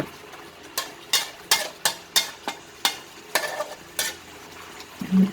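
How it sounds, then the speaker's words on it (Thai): Coconut milk is stirred into a catfish curry with a series of about ten rhythmic scraping strokes against the pot, close and distinct over a faint simmer. "เติมน้ำกะทิลงไป"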